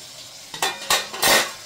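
Curry being cooked in a pot for an everyday rice meal, with three loud bursts of stirring and frying sizzle scraping against the metal, close up and without talk.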